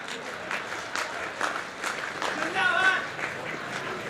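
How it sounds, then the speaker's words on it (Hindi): Sparse, thin clapping from an audience at a Hindi political poetry recital, a few scattered claps rising and falling quietly over several seconds. "तालियां कमजोर है भाई साहब।"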